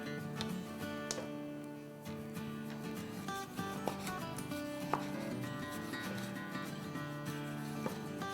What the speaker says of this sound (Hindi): और अब हम अपने टोमेटोज़ डालना शुरू कर देते हैं। चॉप करते जाएंगे, डालते जाएंगे